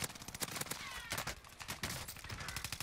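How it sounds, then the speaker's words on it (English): Rapid gunfire rattles in Call of Duty on Rebirth Island, faint and distant, a dense run of quick shots and bursts that keeps going without a break. "All I hear is shooting."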